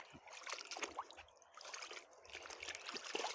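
Water trickles and splashes softly as laundry is rinsed by hand in a bucket, faint irregular dribbles and sloshes close by with brief pauses between them.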